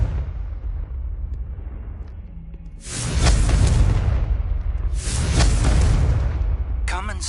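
Confringo blasting curse from Hogwarts Legacy on PS5 goes off in two loud, booming bursts, each a broad rumbling blast lasting about two seconds with a sharp crack at the very end, over a low background of game ambience.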